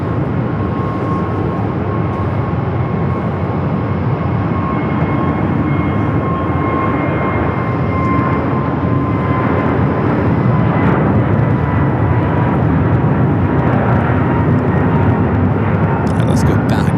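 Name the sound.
American Airlines Airbus A321neo jet aircraft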